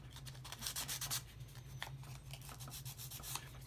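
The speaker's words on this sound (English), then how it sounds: "step number 4, a little bit sandpaper and wax around this part right here" A wooden part from a UGears V-Express steam train mechanical model kit is rubbed with sandpaper, giving faint, close, quick scratchy strokes over a low steady hum.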